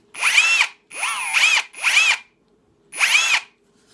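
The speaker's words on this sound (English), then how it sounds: "Let's try hammer mode." A Ryobi hammer drill set to hammer mode fires in four short bursts, a loud close motor whine rising and falling with each trigger pull and brief pauses between.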